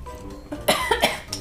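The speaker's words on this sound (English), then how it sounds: "Oh no, I don't like when it makes me cough." A single person coughs several times in quick succession after eating spicy ramen, short harsh bursts close to the microphone, with no speech.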